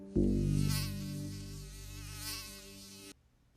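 Mosquitoes, a dangerous species targeted for control in Florida, buzz loudly and close for about three seconds in a dense, high, wavering whine that stops abruptly.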